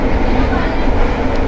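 A passenger train running between Cilacap and Yogyakarta in Indonesia fills the carriage with a loud, steady rumble and rattle of wheels and car body, a continuous close interior roar with no breaks.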